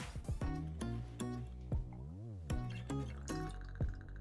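Ice cream float drink poured at close range in bursts of glugging liquid with drips and fizzy splashes, about five pulses over four seconds, with no talking.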